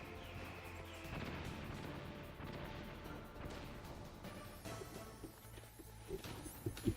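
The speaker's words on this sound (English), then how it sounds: "Chaff grenade." A chaff grenade going off in the PS1 game Metal Gear Solid, heard as dense, crackling bursts and thuds over a busy game soundscape, with sharper pops near the end.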